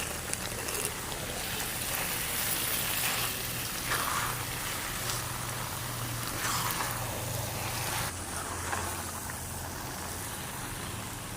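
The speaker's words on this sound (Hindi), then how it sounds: "चमचा आपने हिलाते रहना है, रोकना नहीं है, नहीं तो ये नीचे लग जाएगा।" Aloe vera halwa cooks over low heat in a pan with a steady soft sizzle, while a spoon stirs and scrapes against the metal at intervals.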